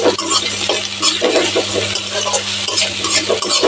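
Potatoes and fenugreek greens for Punjabi aloo methi being stirred in a pan, a steady scraping and shuffling over a soft continuous sizzle, close and fairly loud, with no talking.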